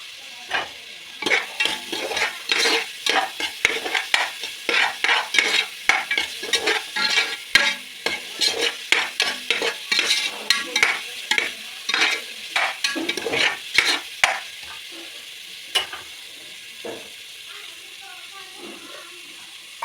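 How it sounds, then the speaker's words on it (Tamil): Ginger garlic paste fries in oil for chicken biryani, with a loud hiss and rapid rhythmic scraping stirs that keep going for most of the stretch before easing off near the end. "இஞ்சி பூண்டு பேஸ்ட்டும் கூட சேர்ந்து நல்லா எண்ணெயில் குக் ஆகுது"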